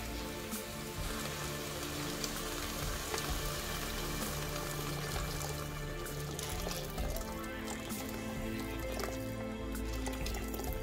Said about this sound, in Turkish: Yaklaşık 4 su bardağı kadar sıcak suyu ekledim.